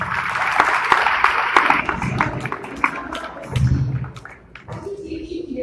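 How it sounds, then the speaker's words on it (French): Crowd applause with scattered claps rises and fades over several seconds, mixed with murmuring voices and room noise. "Vous pouvez vous applaudir"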